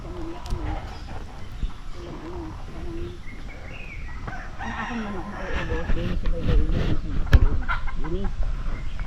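Chickens cluck and chatter repeatedly close by, with people talking over the birds and occasional rustling in the background.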